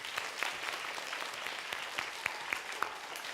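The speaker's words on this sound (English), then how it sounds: "A round of applause for them." A theatre audience at an Orlando Shakes show applauds the sponsors, a fairly thin, moderately distant spread of clapping with a few sharper individual claps standing out over several seconds.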